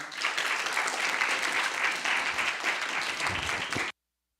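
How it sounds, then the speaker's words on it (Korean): A church congregation at a Friday worship service applauds to welcome a visiting missionary, steady dense clapping from many hands filling the room for about four seconds before stopping abruptly. "이제 나오실 때 큰 박수로 환영하겠습니다"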